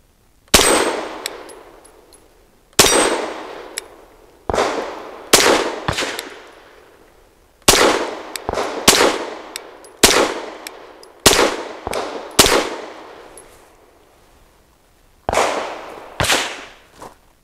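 Caracal Enhanced F pistol fires Fiocchi 9AP rounds at a steel spinner outdoors: loud, close shots come singly and in quick clusters with short pauses, each followed by a ringing metallic clang that fades.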